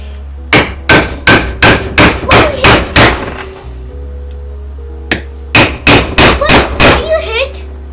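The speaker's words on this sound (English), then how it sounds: "I'm gonna probably hit it with my hammer, see how it goes." A hammer strikes a Harbor Freight seal installer tool to drive a seal during an AOD transmission rebuild for an early Ford Bronco. Loud, close metallic blows come in two rapid bursts of about eight and six hits, with a short pause between.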